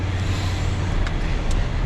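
A gas-powered truck engine idles steadily with a low, constant rumble, close and continuous, with faint roadway hiss and no talking.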